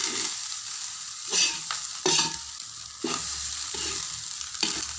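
Lemon rice being stirred in a pan, a spoon scraping and turning the grains in several distinct strokes over a soft, steady sizzle, close up and with no talking.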